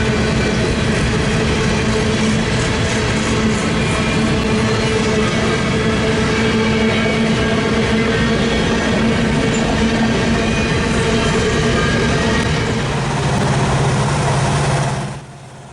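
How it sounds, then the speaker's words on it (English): An eastbound freight train of potash empties rolls past steadily and loudly, with wheels clattering and squealing faintly over a continuous rumble. The sound holds for the whole pass and drops away abruptly at the end. "602 is eastbound potash empties from CN Interchange in Sapperton."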